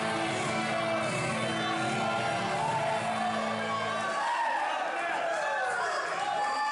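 A dense arena crowd roars and whoops at a Thanksgiving pro wrestling show during a 3-on-2 tag match, a continuous wash of cheering and chatter with a voice talking over it.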